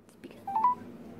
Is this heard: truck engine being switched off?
no